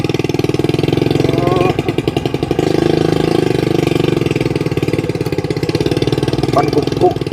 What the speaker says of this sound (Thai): เสียงสนั่นบ้านเนาะรถนึง